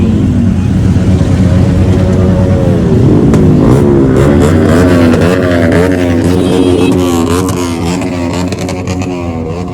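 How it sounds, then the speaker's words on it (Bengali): Heavy road traffic of motorbikes and cars on an Independence Day ride on a Dominar 400, loud engine drone and revving close by with passing vehicles, continuous and rising and falling over the ride. "গাড়ির আওয়াজ শুনে বুঝতেই পারছো যে রাস্তার অবস্থাটা।"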